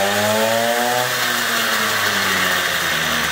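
A moped engine with a chain-drive variator runs with a harsh, buzzing whine like a chainsaw, steady and loud throughout with slight pitch shifts, close by and with no talking.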